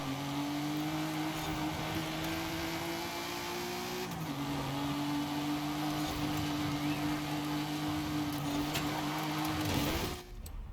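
A heavily modified car in Forza Horizon 5 holds a loud, sustained engine howl at high revs, its pitch dipping briefly with a gear change before holding steady again, then cutting off near the end.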